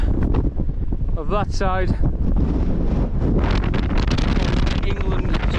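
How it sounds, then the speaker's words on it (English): Strong wind blowing across an exposed tent pitch, buffeting the microphone with a loud, constant roar while someone talks over it. "a lot of change in the driving wind"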